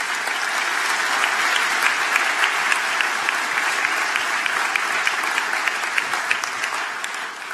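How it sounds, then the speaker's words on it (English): Sustained, dense applause from a large audience at a university engineering commencement ceremony, steady and loud throughout before tapering slightly at the end. "We want to give you a full round of applause."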